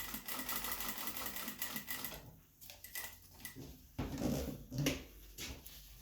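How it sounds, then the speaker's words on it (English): A sewing machine stitches elastic onto a procedural face mask, a quiet rapid mechanical chatter in short bursts with brief pauses and a few soft handling knocks between runs. "sew around that corner"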